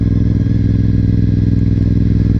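A Honda RC51 motorcycle being ridden in hot weather produces a steady, loud engine drone with a low, even pulsing throb and constant wind and road noise, holding a constant pitch throughout.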